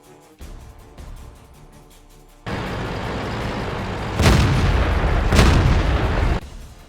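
Heavy tank cannon shots from a World of Tanks match: a low rumbling bed that jumps louder midway, with two sharp booming blasts near the end standing out over the engine-like drone, no talk.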